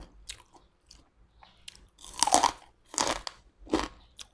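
Someone eats crunchy Thai som tam papaya salad up close, with loud repeated bites and wet, crackly chewing in uneven bursts, and no talking.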